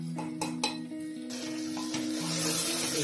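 A spoon stirring turmeric into mutton curry in a pot, soft scraping and light metallic clinks over a steady sizzle, close and moderate in level with no talk.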